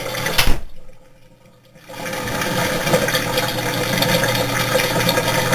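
A Whirlpool Cabrio top-load washing machine works through its spin cycle. After a brief lull, a loud, steady whirring whine builds and holds, continuous and close.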